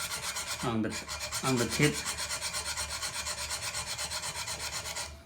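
A pottery trimming tool's beveled tip is filed against a wooden block, making steady, rhythmic rasping strokes throughout, close and even. Someone speaks briefly near the start.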